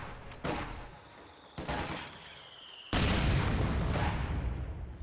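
Battle sounds from the Company of Heroes 2 strategy game: bursts of gunfire and heavy mortar blasts, three distinct loud impacts with the last one rolling into sustained rumbling fire, and no voices.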